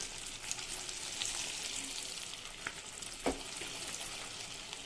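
Egg curry sizzles and fries in oil in a pan while being stirred, a steady bright crackle throughout with a few soft scraping knocks from the spoon and no talking.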